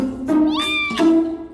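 A human voice imitates a cat's meow: one drawn-out, rising and falling mewing call, close and clear, with a short break in the middle.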